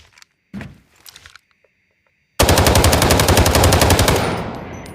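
A QBZ rifle fires in the video game Delta Force as one loud, sustained automatic burst of rapid, evenly spaced shots. It comes after a short stretch of quiet and faint sounds, then tails off.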